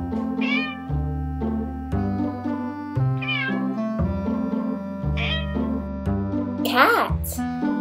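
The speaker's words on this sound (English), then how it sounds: "Cat." An animated cartoon cat meows several times in bright, rising and falling calls over a steady, bouncy children's music backing with a stepping bass line.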